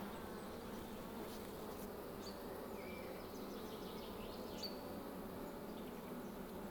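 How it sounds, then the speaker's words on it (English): Honey bees fan on a hive board outdoors, a dense continuous buzzing drone at low level with a few individual bees passing nearer. "These bees are fanning on the board."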